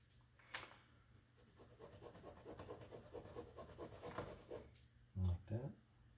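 A cloth is rubbed over the screw heads on an old Steinway piano's key fall lock to polish them. The soft, steady scratchy rubbing strokes are close and quiet, and two brief louder thumps come near the end.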